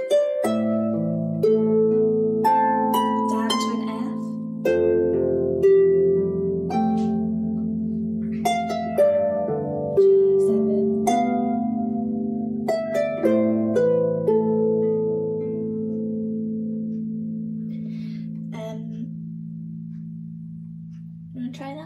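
Chords plucked on a Manx harp in a lesson setting, with rich sustained string tones that overlap and slowly fade, heard close and alone.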